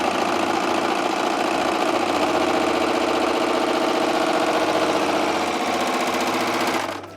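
A Husqvarna Viking Amber Air S|600 serger runs a 4-thread overlock stitch joining two pieces of fabric, giving a loud, steady, close-up mechanical whir that holds evenly for several seconds, then cuts off abruptly.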